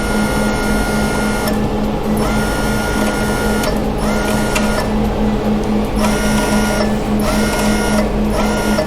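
The wire feeder of an IWELD 225IGBT MIG/MMA welder runs with a steady motor whir and a periodic mechanical hum, loud and close, with no talking.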